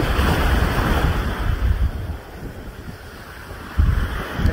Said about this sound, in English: The mist, the ocean spray.